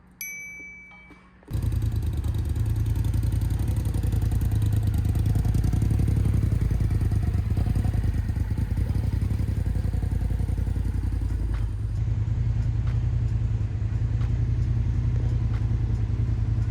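A Polaris RZR engine fires up for the first time, starting with a brief crank before catching and settling into a loud, steady, rough idle that holds close and continuous, with slight change near the end.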